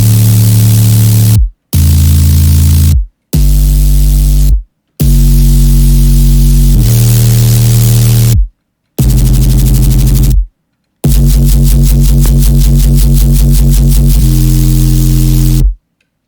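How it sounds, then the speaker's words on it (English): White noise bass synth built from a sine wave plays loud in a series of sustained notes separated by brief silences, harsh buzzy static over a heavy low tone, with some notes pulsing rapidly. "A white noise base, except it sounds cool."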